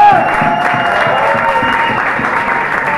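A crowd at a live music show in Argentina applauds loudly and steadily, a thick continuous roar of clapping with some cheering mixed in, sustained evenly throughout.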